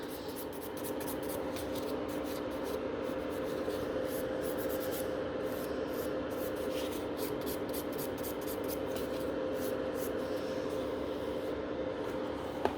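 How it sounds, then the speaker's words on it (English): A 180-grit file rubbing back and forth across natural fingernails, quick close rasping strokes in a steady rhythm under a constant background hum. "So I'm trying on the natural nails using 180 grit."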